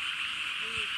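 A large chorus of frogs croaks in a wetland in rural Isumi, Japan, a dense continuous trilling drone with one nearer croak standing out briefly.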